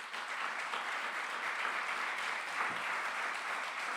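An audience claps steadily and warmly, a dense wash of applause from many hands continuing throughout without a break.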